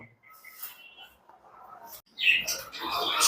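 A pair of young budgerigars chirps close by, with short high tweets early on and then a louder, busier stretch of chattering.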